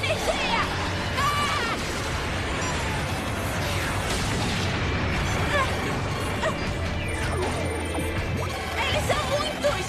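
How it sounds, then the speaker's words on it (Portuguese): Explosive attack blasts crash and burst in a Power Rangers R.P.M. episode, a dense, loud barrage of smashes and booms layered with shouting voices and clattering effects throughout. "Ataque explosivo."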